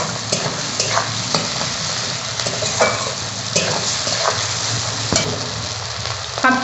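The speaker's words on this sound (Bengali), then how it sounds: "পেঁয়াজ আর টমেটোটা তাড়াতাড়ি ভাজা হয়ে যাবে," Onion and tomato with salt frying in a pan: a constant loud sizzle, with a spoon scraping and knocking against the pan in irregular strokes, close up, with no talking.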